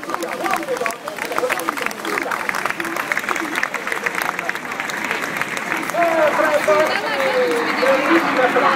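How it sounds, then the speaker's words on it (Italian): Applause from an audience at a live event, with clapping running throughout while voices and crowd babble mix in, and speech rises over the claps toward the end. "un grande, grandissimo applauso ancora una volta"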